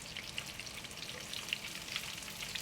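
Hot oil sizzles and crackles steadily from close by as a panko-breaded Scotch egg fries, with scattered sharp pops over the continuous hiss.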